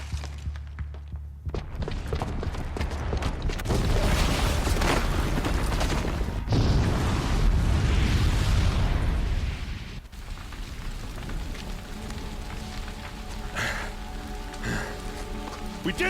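A bomb booby trap detonates in Horizon Zero Dawn, a broad roaring blast that swells loud and sustained for several seconds, then settles into a rumbling, debris-filled tail with no talking.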